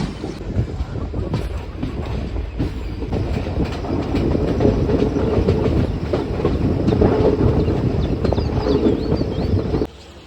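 Chendur SF Express train running on rails, a steady loud rumble with continuous wheel clatter heard from inside the carriage, building slightly before cutting off at the end.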